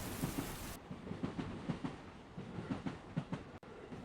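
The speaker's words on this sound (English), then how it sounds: "Train noise." A game plant produces a train-like noise: a steady rumbling roll with a regular clickety-clack rhythm, moderately loud and continuous.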